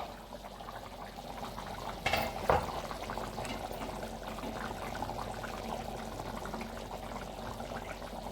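Water heating in a cooking pot at a rural Konkan home, a faint steady bubbling simmer with a brief splash or pour near the middle, no talk.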